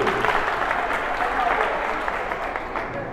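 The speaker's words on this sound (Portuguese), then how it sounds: "quero pedir a sua primeira salva de palmas para ela" Sustained applause from a crowd fills a debutante ceremony at a mansion, steady and dense clapping throughout with faint voices underneath.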